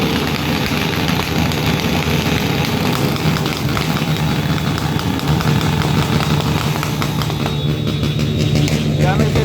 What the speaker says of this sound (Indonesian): Sebagian supporter dari PSS Sleman menyalakan motornya dengan knalpot yang sangat-sangat bising sekali.